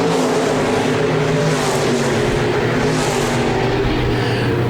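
SportMod stock cars race at Park Jefferson Speedway, engines droning loud and continuous as they run wheel to wheel through the corners, a thick layered roar with no break.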